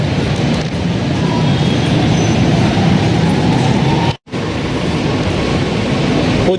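An MRT train rolls past near Shaw Boulevard station, a loud sustained rumble and rail roar with faint wheel squeal, briefly cut by a short gap before resuming.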